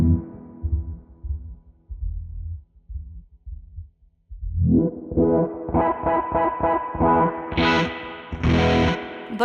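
A guitar plays through a Source Audio Artifakt Lo-Fi pedal with its low-pass filter setting. Muffled, dark low notes open the passage, then the filter sweeps open into brighter, buzzy, distorted chords that pulse rhythmically.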